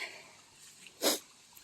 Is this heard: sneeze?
yes